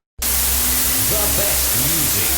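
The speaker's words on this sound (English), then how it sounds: "that white noise is overpowering, isn't it?" Generated white noise with no effects switches on abruptly and holds as a loud, flat, constant hiss, with a faint voice audible underneath.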